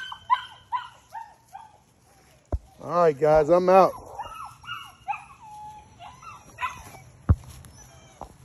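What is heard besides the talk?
puppies whimpering and yipping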